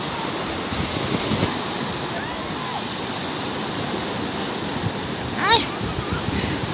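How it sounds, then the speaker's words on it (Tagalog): Ocean surf washes steadily at a surf beach in Zambales, a continuous broadband roar of breaking waves with brief voices and a short shout near the end. "So, maganda talaga yung alon is ano."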